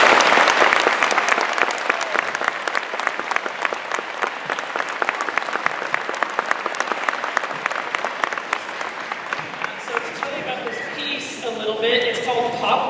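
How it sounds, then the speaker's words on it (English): Audience applause at a school jazz concert, a full, dense round of clapping that stays strong for about ten seconds before thinning out, with talk from the crowd mixed in near the end. "So I would like to really just give Mr. Dodge one round of applause."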